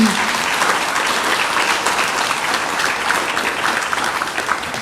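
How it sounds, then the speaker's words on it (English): An audience at a university inaugural lecture breaks into sustained, even applause for several seconds, a dense wash of clapping without talk. "Can we have a round of applause, please, for the new queen?"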